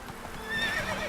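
Horse Roach in Witcher 3: a brief whinny rising over faint hoof clip-clops, moderately loud and close, with no talk.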